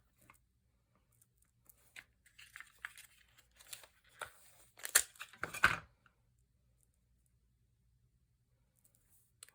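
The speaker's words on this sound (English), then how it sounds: "I'm going to put Post-it tape here." Post-it tape is torn and pressed down on a papercraft gift box: faint scattered clicks and crinkles build into a few sharp ripping bursts near the middle, then quiet, with no voice.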